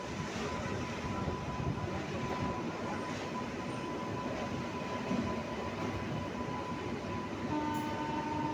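A train passes close by with a steady, continuous rumble of wheels and wagons that holds an even loudness throughout, with no voices.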